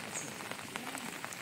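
Rain falls steadily, a dense hiss of drops spattering on surfaces with scattered louder individual drips, fairly faint and continuous.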